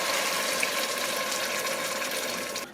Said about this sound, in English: I'm about to add some vegetable broth into this lentil soup